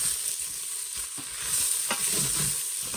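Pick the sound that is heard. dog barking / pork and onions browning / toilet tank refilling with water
pork and onions browning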